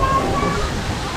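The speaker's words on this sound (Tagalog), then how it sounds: "Meron silang mini waterfall sa loob" Small artificial waterfall splashing inside a leisure farm with a mini zoo in Kaohsiung, Taiwan, a steady close rush and slosh of falling water that fills the whole moment without pause.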